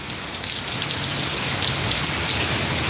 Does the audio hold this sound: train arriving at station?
no